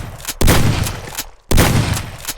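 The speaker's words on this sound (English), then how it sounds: "I also added an exploding head sound effect." Exploding head sound effect in a self-made video game, two loud wet bursts about a second apart, each with a sudden sharp onset and a quickly fading splatter tail.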